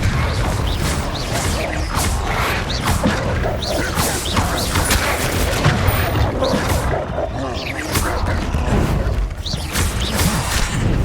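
Spell blasts and explosions from Confringo and other combat spells in the Hogwarts Legacy video game, a dense continuous barrage of crashes, booms and whooshes with game noise throughout.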